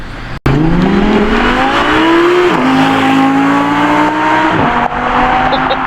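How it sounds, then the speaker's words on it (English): An Audi R8 V10 sports car pulls away under hard acceleration, engine pitch climbing through two gear changes, loud and close, with a sharp click at the start and no voices. "Sean is leaving in the R8. That is a V10"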